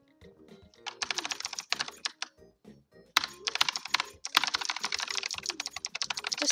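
Rapid keystrokes clatter on a computer keyboard, bursts of fast repeated key presses with short pauses between, close and fairly quiet with no talking.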